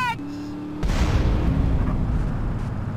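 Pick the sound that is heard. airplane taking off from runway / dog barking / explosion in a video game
explosion in a video game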